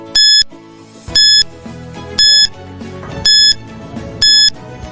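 A timer alarm beeps five times in a steady rhythm, each sharp electronic tone close and loud over quiet background music.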